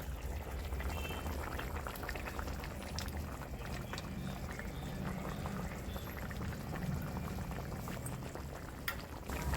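Curry broth boils in a pan, a steady soft bubbling and simmer with low rumble, close and fairly quiet, no voices.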